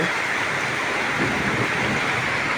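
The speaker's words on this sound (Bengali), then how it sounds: "প্রচুর বৃষ্টি হচ্ছে বৃষ্টি এবং বিদ্যুৎ চমকাতেছে" Heavy rain keeps up a dense, steady hiss with no break, close and loud throughout. No distinct thunderclap stands out.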